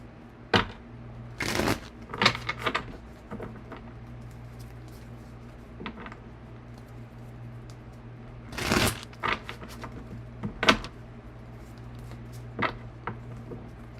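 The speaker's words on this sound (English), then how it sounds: "Let's shuffle these cards up." Tarot cards being shuffled in several brisk riffling bursts, close up, separated by quieter pauses over a low steady hum.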